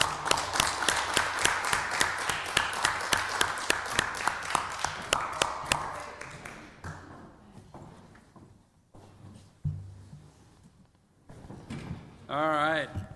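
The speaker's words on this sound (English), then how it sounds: "We're gonna give a round of applause." Applause from the public at a city council meeting, a dense run of claps that thins out over several seconds, followed by scattered noises and a voice speaking near the end.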